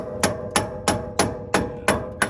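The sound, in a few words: dead blow hammer tapping tie rod into hub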